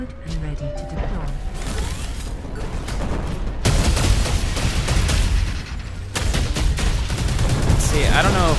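Continuous mech gunfire and crashing impacts from the video game World of Mechs, dense and loud throughout, with game voice lines speaking over the barrage.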